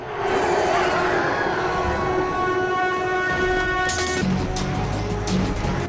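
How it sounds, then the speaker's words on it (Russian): Train passing in the video game Dead Flag Blues 2, a continuous rumbling roll with sustained tonal whine and horn-like tones, loud and close throughout, with game effects layered over it. "Да, будет поезд."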